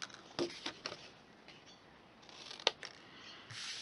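Scissors trim a strip of cardstock in a few quiet, separate snips spaced over a few seconds, close by and faint, against a hushed room with no talking.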